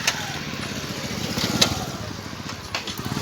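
A Rapido ride-hailing motorcycle approaches at low speed. Its engine putters faintly at a middle distance under steady background noise, with a couple of small swells.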